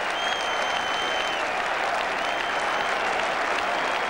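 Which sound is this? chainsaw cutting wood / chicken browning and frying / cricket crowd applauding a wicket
cricket crowd applauding a wicket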